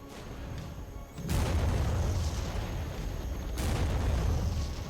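Bombs exploding in a Cold War real-time strategy video game: two heavy, deep booms a couple of seconds apart, each rolling into a sustained rumbling roar of battle.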